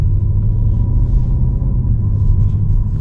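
A Mercedes-Benz CLE 450 coupe moving through a crowded San Sebastian city centre, giving a steady low engine and road rumble heard from inside the cabin, continuous and fairly loud with no talking.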